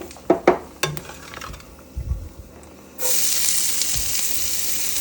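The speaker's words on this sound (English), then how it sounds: "now we are going to add our onion and, let me turn it down some, our onion and garlic." Onion and garlic hit hot oil in a skillet, bursting into a loud, steady sizzle after a few clinks and handling sounds; close and sustained for the final couple of seconds.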